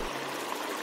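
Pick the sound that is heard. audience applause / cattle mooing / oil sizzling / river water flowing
river water flowing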